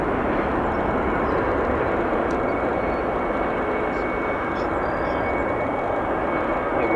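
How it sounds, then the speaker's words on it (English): An ANA Boeing 777 beginning its takeoff roll at O'Hare International Airport: a broad, steady jet-engine roar heard from a distance, constant and unbroken, with people talking faintly over it. "our ANA 777 is going to start rolling."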